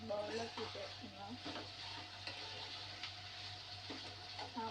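Nalla fry meat sizzles in a hot pan while a spoon stirs it, with soft scraping and clinks over a steady frying hiss, faint and close.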